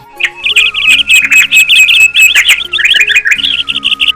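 Anai chathan birds chirping loudly and close, a dense, continuous burst of shrill, rapid tweets and squawks overlapping one another with no voices.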